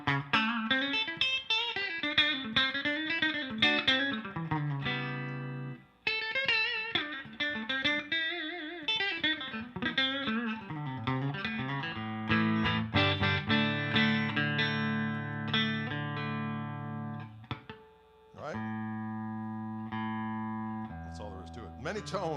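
Electric guitar with its pickups switched out of phase, played through effects, giving a thin, hollow, nasal tone across a steady run of melodic phrases and chords with brief pauses.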